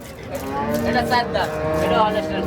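A four-tooth-age Holstein Friesian cow moos loudly and close by, one long drawn-out low call lasting the whole moment.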